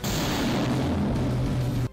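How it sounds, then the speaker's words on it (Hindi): A shoulder-fired rocket launched from a launcher toward a steel plant gives a sustained, loud rushing roar with low rumbling that holds for nearly two seconds and then cuts off abruptly. "एक दूसरे लड़के ने अपने कंधे पर रखे लॉन्चर से एक रॉकेट स्टील प्लांट की तरफ दाग दिया।"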